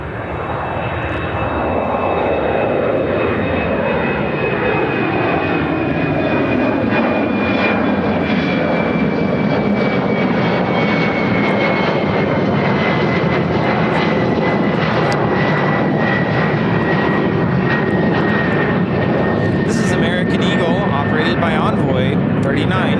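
An Embraer E170 jet takes off from Chicago O'Hare bound for Detroit, a loud sustained engine roar with a high whine slowly falling in pitch as it climbs, voices talking over it.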